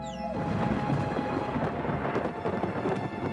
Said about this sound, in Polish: Burza nad Ponty Pandi.